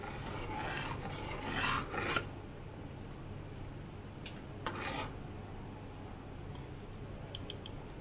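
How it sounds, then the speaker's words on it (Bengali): Spoon scraping and stirring sago pudding in a pot, a few rough rasping strokes early on, then quieter intermittent scrapes with small clicks, close and fairly soft. "এটা এবার ভালো করে নাড়তে হবে, আর এটা হালকা করে ফোটাবো।"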